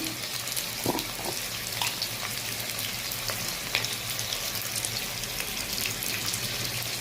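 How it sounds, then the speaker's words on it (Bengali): Potatoes fry in hot oil for a vegetarian aloo dum, giving a steady, close crackling sizzle with scattered sharper pops throughout and no talking. "তেল গরম হয়ে গেছে, আলু দিয়ে দিয়েছি"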